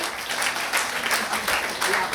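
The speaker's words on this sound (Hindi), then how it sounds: "एक बार जोरदार तालियों पर स्वागत करें" A college audience at an Ambedkar Jayanti ceremony applauds loudly, a dense steady wash of many hands clapping together for the whole stretch, close and full without a break.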